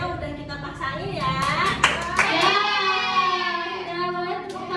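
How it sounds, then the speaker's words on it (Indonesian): A class of fifth-grade children applauds in a classroom, a sustained patter of clapping under the voices of the teacher and the pupils. "Ya, boleh tepuk tangan."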